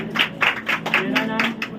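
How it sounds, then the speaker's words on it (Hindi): A church congregation at a Sunday holy communion meeting claps after a testimony, a short burst of loud rhythmic hand claps in roughly even beats, close and clear. "इसलिए हम जोरदार तालियां करेंगे।"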